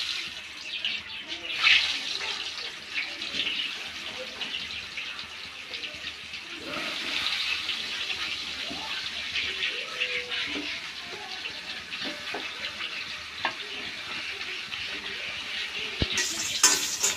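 Eggplant pieces fry in hot oil left over from frying hilsa fish, with a steady close sizzle and spatter that swells after the pieces go in and continues with occasional stirring clatter.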